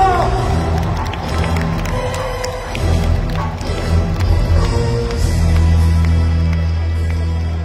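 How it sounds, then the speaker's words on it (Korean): A crowd at a party leadership convention applauds and cheers for a candidate, a thick, rumbling roar of clapping with background music swelling toward the end. "최고위원 후보 황명선 후보에게 큰 박수 부탁드립니다"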